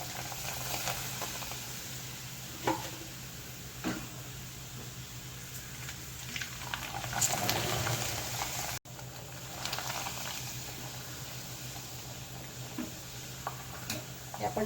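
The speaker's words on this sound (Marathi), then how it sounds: "मस्त तेल तापलेलं आहे आता. आणि हे तांदळाच्या पापड्या आहेत, खूप टेस्टी लागतात या. तर मी असंच तळून घेते" Rice papads deep-frying in hot oil, giving a steady soft sizzle and bubbling hiss with occasional light clinks and stirring, fairly faint throughout.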